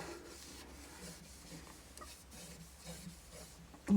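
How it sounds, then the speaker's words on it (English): A cloth rubs and wipes across the surface of a Saltfire STX Wide woodburning stove, giving soft, steady close-up scuffing with faint ticks underneath. "And then you just have to wipe that off."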